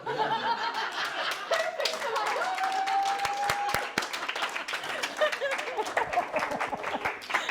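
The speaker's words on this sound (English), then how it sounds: "Round of applause for Jen." An audience at a public speaking event claps and cheers in steady applause, mixed with laughter and a whistle, loud and continuous throughout.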